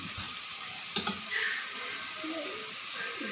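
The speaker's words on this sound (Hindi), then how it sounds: "ये अच्छी तरह हम भून लेंगे।" Potatoes frying in a pan, a steady low hiss of sizzling oil running throughout with a brief clatter near the start, close and moderately quiet.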